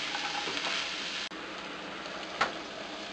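String beans sauté for ginisang sitaw in a pan, giving a steady sizzle with soft scraping stir strokes and one brief clatter near the end.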